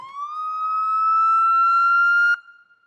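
Warning siren, first of four alarm tones: a single steady electronic wail that swoops up briefly at the start, then holds one loud, even pitch for about two seconds before cutting off abruptly, with no voices.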